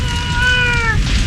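A cat meows once with a clear, rising-and-falling harmonic cry lasting about a second, close and fairly loud over a rumbling background.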